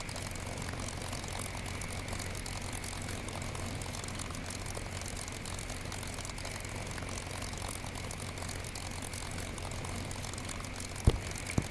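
A P-51 Mustang's propeller engine idles and rumbles steadily as the aircraft taxis in the DCS flight simulator, a constant low drone with an airy wash on top, heard alone, with a couple of faint clicks near the end.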